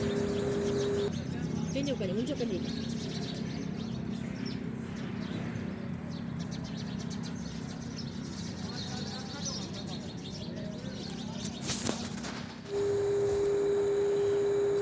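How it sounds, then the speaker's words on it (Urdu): Sparrows chirp in a village tree at dusk, a busy, continuous twittering chorus heard from nearby over steady outdoor background noise. "اس میں بہت ساری چڑیاں تھیں، وہ چائیں چائیں کر رہی تھی، تو آپ کو سناتی ہوں ان کی آواز۔"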